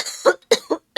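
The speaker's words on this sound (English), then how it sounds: "Sorry, had to pause for a cough break." A person coughs three or four times in quick succession, close and fairly loud, each burst short and harsh with brief gaps between.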